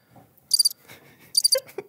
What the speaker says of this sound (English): Stop, crickets.